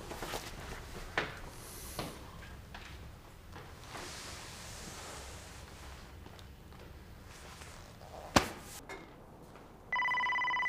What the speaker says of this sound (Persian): بچه‌ها تلفن